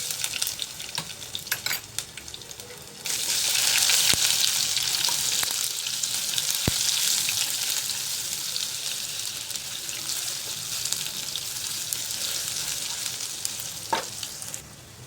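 Ginger garlic paste drops into hot oil with cumin in a kadhai; after a few seconds of light crackling, a loud broad sizzle surges up and continues steadily, slowly easing with occasional pops.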